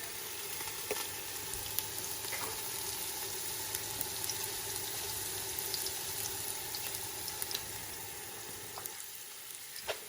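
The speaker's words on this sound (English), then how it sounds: "I'm going to put my habanero pepper" Habanero pepper hitting hot oil in a pot of spinach sauce stew, with ginger already in, gives a constant close-up sizzle and frying crackle. Small pops and stirring clicks sit on top, steady throughout with no talking.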